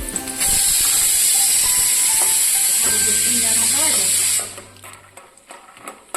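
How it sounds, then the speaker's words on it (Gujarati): Peanuts frying in hot oil for a farali fasting meal: a loud, steady sizzling hiss runs for about four seconds, then cuts off, leaving faint clinks; a voice talks underneath. "હવે આપણે સિંગદાણા તળી લઈશું."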